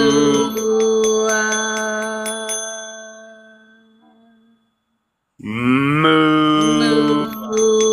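A voice imitates a cow's moo, with two long, loud, drawn-out calls separated by a short silence. No other speech is heard.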